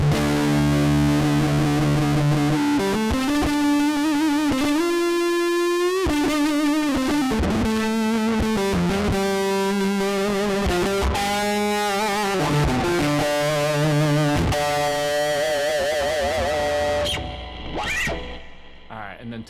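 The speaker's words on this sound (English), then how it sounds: "Basically, you're increasing distortion and you're also increasing sustain a ton." Electric guitar run through an Axe-Fx III drive block, heavily distorted with very long sustain, held notes and bends ringing loud and continuous before fading out near the end.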